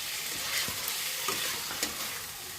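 Masala of salt, turmeric, ground tomato, Kashmiri red chili powder and kasuri methi being stir-fried in a pan for soybean chhana muitha, giving a continuous soft sizzle broken by a few scraping stirs, close and steady.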